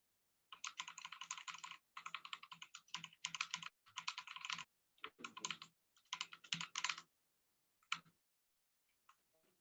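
Quick bursts of typing on a computer keyboard, close and fairly quiet, rapid clustered keystrokes with short pauses between runs, ending in a few isolated taps, with no talking.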